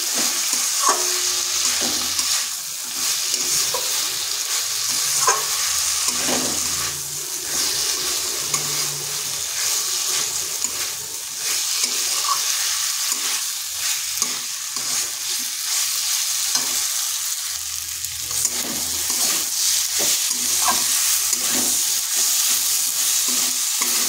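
Fried papaya and potato being stir-fried with spices in a pan, a steady close sizzle with the scrape of stirring running throughout, with no talk.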